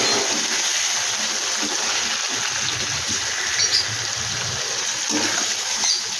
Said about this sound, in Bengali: এই বাটিটা ধুয়ে আমি জল দিয়ে দেবো। আমি মতন জল দিয়ে দিলাম।